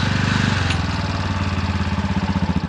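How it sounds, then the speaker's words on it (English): A tuk-tuk engine on a street in São Paulo, Brazil, runs close and loud with a rapid, throbbing putter, while a brief metallic click sounds near the start of the engine noise. "when I'm just starting up, it sounds like two metal pieces like click together on the ignition"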